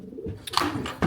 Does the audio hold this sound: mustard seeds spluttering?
no